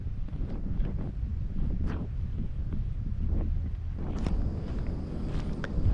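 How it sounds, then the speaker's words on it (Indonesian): Strong wind off the southern sea buffets a cliffside rest area at Kelok 18 on the JJLS road in Gunungkidul, a continuous loud roar with gusty microphone rumble and faint scattered movement sounds. "Di sini silir banget lho. Sembribit anginnya."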